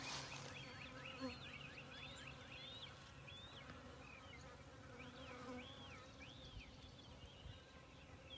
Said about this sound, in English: you should see these bees duking it out